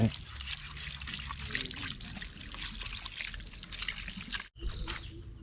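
Hot water poured while a car battery is washed clean, a steady splashing trickle and drip of liquid running for about four and a half seconds, a brief cut, then more flowing water.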